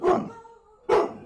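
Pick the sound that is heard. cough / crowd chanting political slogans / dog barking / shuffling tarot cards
dog barking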